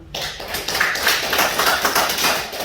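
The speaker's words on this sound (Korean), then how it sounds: "어디 박수 한번 쳐봐." Hands clap together in a fast, steady run of close, bright claps, loud and continuous for a few seconds with no talking over it.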